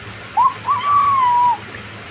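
A young child imitates a chicken's call with a drawn-out whistling, hooting voice, rising then holding steady for about a second over a quiet room.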